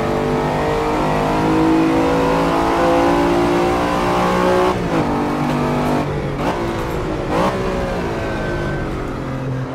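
Lamborghini Diablo VT engine in the Assetto Corsa racing game using Countach engine sounds, loud sustained revving that holds high, then drops and spikes on gear changes, with no talk.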